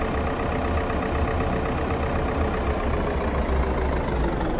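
Steady idling helicopter engine in the survival game Unturned, a continuous low, rumbling drone that holds at even loudness throughout, close and with no talking over it.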